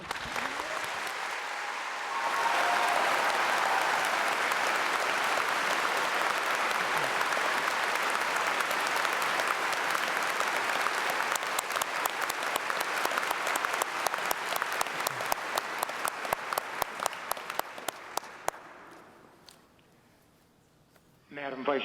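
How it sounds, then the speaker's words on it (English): Audience at a Carleton University convocation bursts into sustained, loud applause after a brief opening, a dense roar of clapping that thins into scattered individual claps near the end before fading out. "I suggest you applaud extra loud so he can hear it on his computer."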